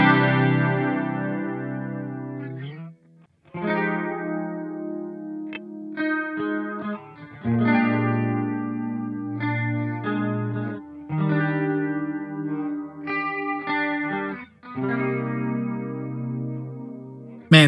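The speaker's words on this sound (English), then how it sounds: "this chorus sounds really good" An electric guitar plays chords and melodic phrases with a shimmering chorus effect, notes swelling and pausing in short bursts, clean and close.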